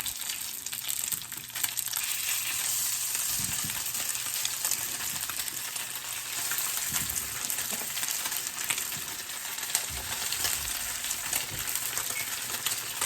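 Salmon cakes fry in olive oil in a pan over medium-high heat, giving a steady, continuous sizzle with occasional soft scrapes and pops; no one speaks.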